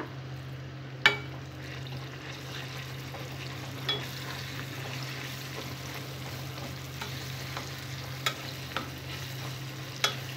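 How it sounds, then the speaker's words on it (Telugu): Ground gongura and tamarind chutney stirred as it fries in a hot tempering of seeds, garlic, dried red chilies and curry leaves, giving a steady low sizzle with occasional sharp spatula scrapes against the pan. "తాలింపు ఫ్రై అయిన తర్వాత ముందుగా నూరుకున్న పచ్చడి వేసుకోవాలి."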